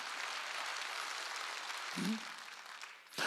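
A church congregation claps through a worship service: a steady, dense wash of many hands with no break, and a brief voice rises near the end.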